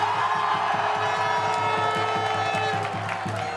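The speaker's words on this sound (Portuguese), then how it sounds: "Festa da torcida no Salvador Costa." A football crowd at Salvador Costa stadium cheers loudly after a converted penalty in a Desportiva versus Colatina Capixabão 2014 match, a dense, sustained roar of voices and clapping with a rhythmic chant running underneath throughout.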